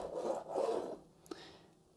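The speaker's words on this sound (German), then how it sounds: "Dann schneide ich einmal in der Mitte durch." Knife cutting through a large homemade focaccia sandwich, a faint close rasping saw-like scrape of the crust lasting about a second, then a small tap and quiet.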